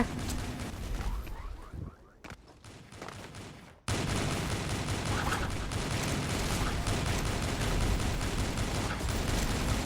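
Dense, continuous automatic gunfire and blasts from the online shooter game Avatar Star, loud and unbroken apart from a brief drop-out before resuming at full intensity.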